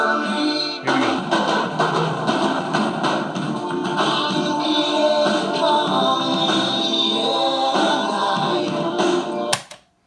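Theme music plays from a cassette in a QFX ReRun X retro boombox, a full, steady mix running for about nine seconds before cutting off abruptly near the end.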